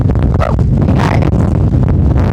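Strong outdoor wind buffeting the microphone, loud continuous low rumbling gusts with a few surges of breathy noise, no clear talk.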